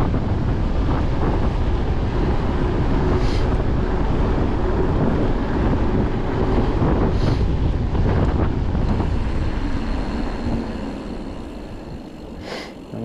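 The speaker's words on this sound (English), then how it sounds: "I'm just fighting the wind or what?" Steady, loud wind buffeting a microphone while riding a Fezzari Wire Peak electric mountain bike, a continuous roar filling the whole stretch and easing slightly near the end.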